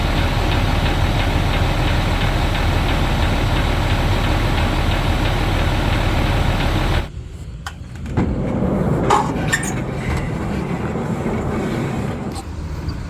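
Old big red truck engine running with a loud, steady, close rumble that cuts to a quieter, uneven idle with wind noise and rattles partway through.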